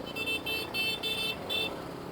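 Busy city street traffic in Makati heard from a moving motorcycle, with repeated short car-horn toots in quick bursts over a steady low engine and road rumble.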